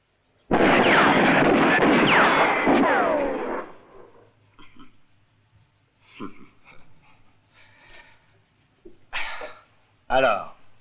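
A gunman fires in a spaghetti western: a loud, long blast with a rolling echo opens, then fades into scattered fainter thumps, breaths and short sharp sounds near the end.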